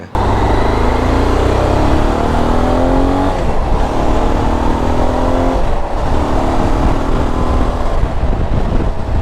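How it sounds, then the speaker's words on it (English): A Honda XRV750 Africa Twin motorcycle engine revs up repeatedly, its deep, mellow tone rising in pitch through several accelerations, then easing and climbing again, loud and close with steady exhaust rumble and no speech. "great engine sound, pretty bitchin excuse me, pretty bitchin in my personal opinion, really mellow and deep and pretty awesome upon acceleration"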